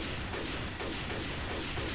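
Rapid gunfire from a sniper rifle in the zombie shooter Left 4 Dead 2, a dense, loud burst of sharp reports with a few brief gaps, close up and without talk.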